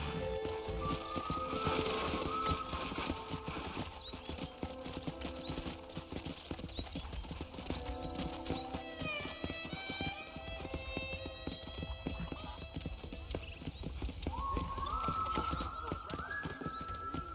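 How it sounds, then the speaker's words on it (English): Rhythmic clip-clop of horse hooves at a steady trot in the video game Red Dead Redemption, under a musical soundtrack, with a whinny partway through. "let's see if you can still ride a horse"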